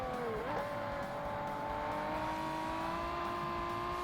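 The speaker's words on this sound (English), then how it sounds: "We can accelerate through there." Race car in the video game Forza Motorsport on hard difficulty, engine pitch sliding down briefly then climbing steadily as it accelerates, a sustained loud drone with a faint tire squeal and no voices.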